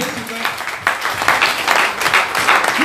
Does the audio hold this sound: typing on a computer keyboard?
no